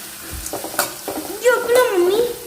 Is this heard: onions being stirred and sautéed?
yes